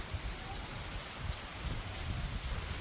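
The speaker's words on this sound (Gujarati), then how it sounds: "અત્યારે વરસાદ શરૂ થઈ ગયો" Steady rainfall patters continuously on surfaces outdoors, a soft, even hiss with scattered drop taps and no voices.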